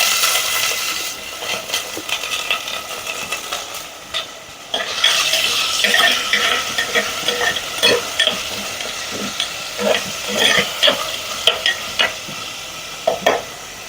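Tomato, green chili and curry leaves frying in a pan for a dried shrimp curry produce a steady close sizzle, broken by frequent stirring clatters that grow more distinct and rhythmic toward the end.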